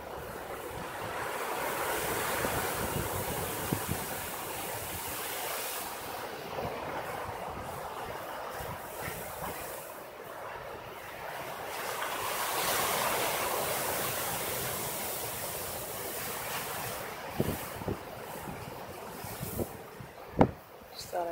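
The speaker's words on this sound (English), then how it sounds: "We get to hear the ocean every day." Ocean waves at high tide after a storm, a steady wash of surf rolling in and receding, with wind buffeting the microphone and a few faint bumps near the end.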